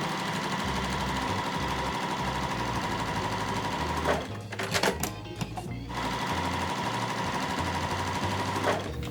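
A sewing machine runs steadily, stitching a quarter-inch seam on quilt pieces with a fast, even mechanical whir, broken by a brief pause and a few clicks partway through.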